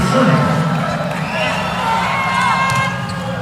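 Loud, sustained roar of cheering and yelling from the crowd at a Hawaii versus UC Santa Barbara men's volleyball match, full and close with voices blended into the din.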